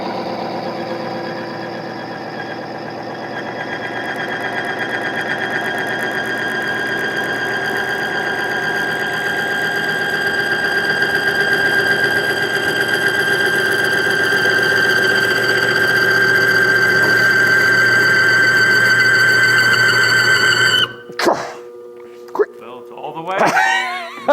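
An old engine with MOA additive drives a bearing test machine, giving a loud, steady whine with a high squealing tone that rises slightly before cutting off abruptly near the end, followed by brief clatter.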